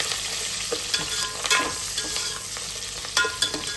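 Sliced onions, green chilies and curry leaves fry in hot oil in a pan for a pumpkin curry, a steady close sizzle broken by soft scraping stirs, with no speech.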